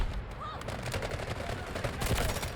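Rapid bursts of gunfire from a K416 rifle in the Delta Force shooter, dense and continuous, with heavier reports toward the end and no talk over them.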